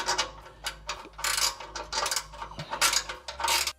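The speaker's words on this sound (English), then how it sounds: "This one's got a ratcheting spanner on top of it as well." A ratcheting spanner loosens exhaust nuts on a 2022 Toyota GR86 or Subaru BRZ, giving loud, close, rapid ratchet clicking in repeated bursts without talk.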